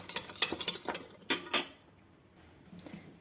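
A metal utensil scrapes and clinks against a bowl while stirring marinated eggplant, zucchini, carrot and onion salad in a quick series of strokes, then a brief quiet pause with faint rustling.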